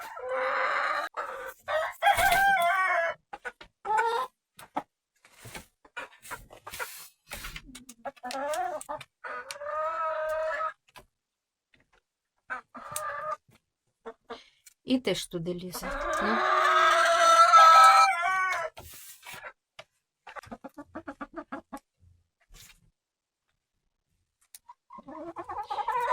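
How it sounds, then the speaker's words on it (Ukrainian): Hens clucking and a rooster crowing inside a coop, loud and close, with bursts of squawking and brief speech in between. "Там курка сидить."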